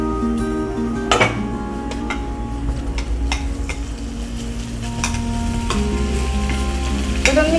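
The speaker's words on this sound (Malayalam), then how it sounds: "പിന്നെ നമുക്ക് ഇത് ഹാഫ് കെ ജി ബീഫ് ഇത് ആഡ് ചെയ്യാം" Half a kilo of beef is added to a sizzling vindaloo masala and stirred, making a loud, continuous fry with sharp metallic scrapes and clinks of the spoon against the pan.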